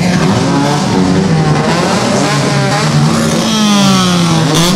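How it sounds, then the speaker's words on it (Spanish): Engines of rally karts competing in an APRAKART championship round in Ibarreta scream close by in loud, overlapping revs, with their pitch climbing and falling as they accelerate past. "Escuchemos estos motores"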